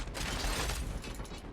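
Mechanical clicks and ratcheting of a weapon reload in a factory-automation video game, a dense, steady clatter lasting under two seconds with no talk.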